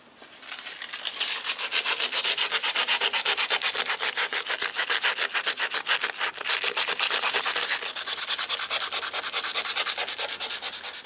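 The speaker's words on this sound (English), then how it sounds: "So for this one we're just going to sand this down by hand, get it so it's all smooth" Steady hand sanding of a Yamaha TDM850 motorcycle part with rust under the powder coat, rapid back-and-forth abrasive strokes rasping continuously and close, fairly loud with no talk.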